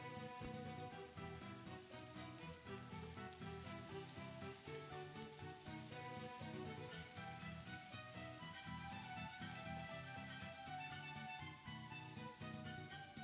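Diced white onion fries in hot oil in a pan, a steady, dense sizzle that stays loud and even throughout with no voices over it.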